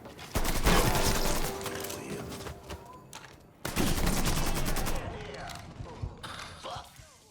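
Enemy gunfire in the video game Mafia III: two loud, sustained bursts of rapid shots with mechanical clatter, the second starting after a brief lull, and some voices mixed in.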